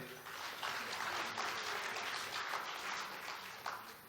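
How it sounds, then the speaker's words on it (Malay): An audience at a national education convention claps in a quiet, even wash of applause that runs throughout, sounding somewhat distant. "tepuk tangan lagi kepada dia"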